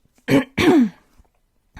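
Someone clears their throat with two quick, rough bursts close up, then a faint small sound after a short pause.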